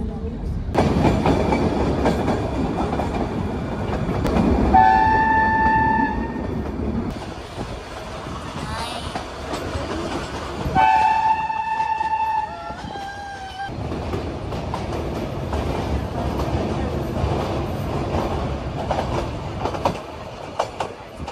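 A Nilgiri Mountain Railway train rumbles along with steady clattering wheels, broken by bright whistle-like horn blasts and squealing tones, with muffled voices now and then.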